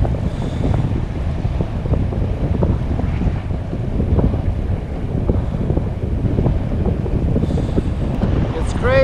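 Strong wind while paragliding near Zermatt, Switzerland buffets the microphone in a constant roaring rush, loud and unbroken, with faint voices mixed underneath.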